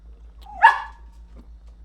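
A single dog barks once at moderate distance in a quiet home, a short sharp bark with a faint trailing whine.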